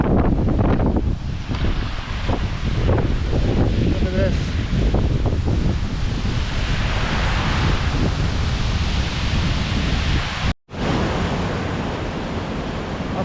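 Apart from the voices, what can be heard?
mountain waterfall and stream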